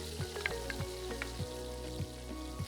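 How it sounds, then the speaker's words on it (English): Onions tipped into a pan of melted butter, giving a steady close sizzle with a few soft clicks and regular low knocks over about three seconds, no voices. "I'm going to literally put in my onions first."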